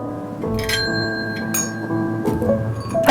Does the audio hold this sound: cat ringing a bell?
yes